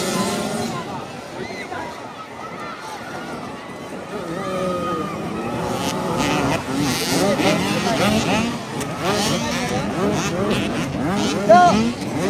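A pack of 85cc motocross motorcycles races in a final heat at a Maramag, Bukidnon track, engines revving and whining from mid-distance as they pass, with crowd chatter and a commentator's voice over the riding.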